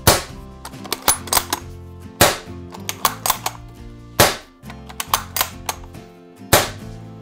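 Several sharp, loud pops from a Gletcher M1891 4.5 mm CO2 air rifle spaced a couple of seconds apart, with quicker mechanical bolt clicks between them, over a steady musical backdrop.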